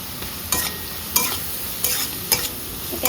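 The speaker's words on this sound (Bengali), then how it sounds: "তো চলো মাছটা এখানে ভাজা হোক" Fish seasoned with turmeric and salt fries in a pan with a loud, continuous sizzle, broken by regular scrapes of a spatula stirring about every half second.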